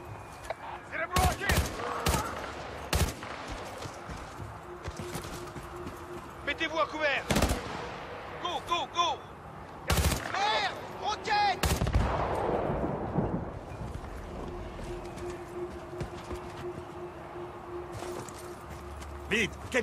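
Bursts of automatic gunfire and single shots crack through a Battlefield Bad Company 2 firefight aboard a space station, loud and irregular, with a steady hum beneath and voices talking between volleys.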